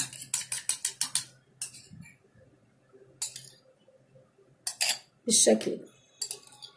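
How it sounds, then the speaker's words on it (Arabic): A utensil beats egg whites hard in a bowl, producing quick bursts of clinking strokes separated by short pauses, and a voice speaks briefly between them. "هقلب البياض جامد جدا كويس قوي قوي قوي"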